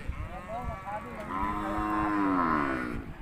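Cattle moo loudly and repeatedly at a beef cattle market in Sikhoraphum, Surin, Thailand, with long drawn-out calls overlapping one another close by.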